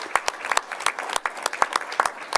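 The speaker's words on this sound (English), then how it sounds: "let's give them a round of applause just for standing up to start with" A small audience at a board meeting claps, a few distinct hands beating irregular sharp slaps close by, brief and fairly sparse, with no talk over it.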